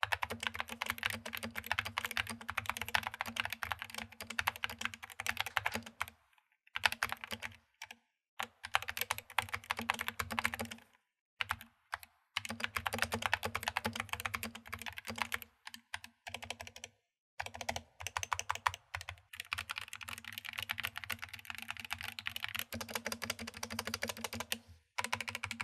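Rapid typing on an Epomaker SK71 hot-swappable 70% keyboard with Gateron optical red switches, with close, steady bursts of keystrokes broken by several short pauses.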